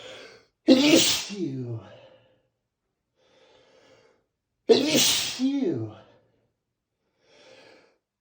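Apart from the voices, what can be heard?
woman sneezing repeatedly from pollen allergy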